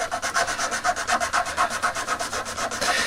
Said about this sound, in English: So let's get filing until I've got this thin enough that it will fit in the top of this R2 unit.